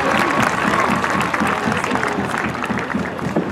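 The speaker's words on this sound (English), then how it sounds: "if you would applaud your parents, your chaperones, your directors, and your instructional staffs" An audience at a marching band awards ceremony applauds continuously, a dense, steady wash of clapping from a large crowd that fills the whole space without letting up.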